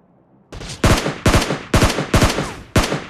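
Gunfire in a video game: after a brief faint lead-in, six loud, sharp shots ring out close together in an uneven rhythm, each with a short ringing tail, and no voices.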